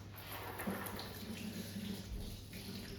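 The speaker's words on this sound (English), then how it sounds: "so I'm just gonna wash my hands." A kitchen tap runs steadily as hands are washed, a soft continuous wash of water splashing into the sink, fairly quiet and without talk.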